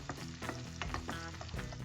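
Peppers sizzle and crackle in a hot pan, with scraping stirs from a utensil, close up and without talking.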